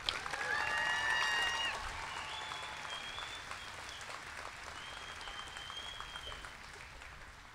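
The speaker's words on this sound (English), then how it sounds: "Please join me in applauding the class of 2024." A graduation audience applauds the class of 2024 in a steady wash of clapping that peaks early and slowly tapers, with faint cheers and whistles rising over it.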